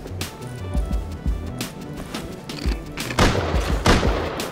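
Python revolver gunshots from the video game Rust during a fight aboard a cargo ship, several sharp cracks fired in an uneven string amid a busy, loud game mix, with a denser burst of shots near the end.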